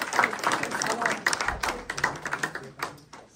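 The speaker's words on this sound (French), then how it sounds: "Oui, vous pouvez applaudir" Audience at an Afro-Canadian book fair gives a short burst of scattered applause, moderately close and fading toward the end, with individual claps standing out.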